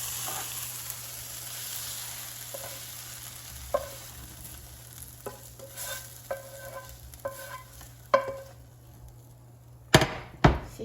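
Eggplant cooks in a frying pan with a faint, steady sizzle, overlaid by scattered spatula scrapes and taps that grow louder and end in a few sharp knocks against the pan.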